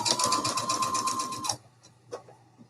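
A sewing machine stitches fabric for a Christmas advent calendar in a quick, even whirring run of about a second and a half, then stops, leaving faint handling noises.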